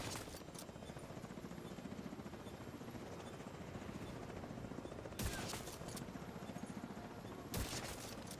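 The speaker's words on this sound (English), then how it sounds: "They get a mini copter thing?" Steady whirring rotor drone of a mini helicopter drone in The Division 2, a continuous close hum with a few sharp bursts of gunfire breaking through.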